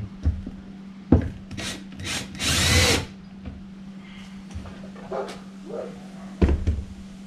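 A power drill drives star-bit cabinet screws with a built-in washer during an antler mount build, giving a few short whirring bursts and one longer run, close up, amid light handling noises and a faint steady hum.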